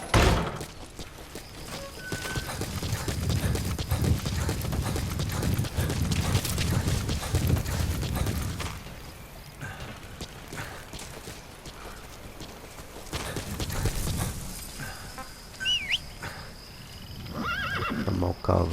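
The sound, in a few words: horse galloping and whinnying, from the video game Metal Gear Solid V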